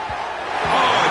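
A home stadium crowd in the College Football 26 video game roars as a broad, steady wash of cheering that swells a little toward the end.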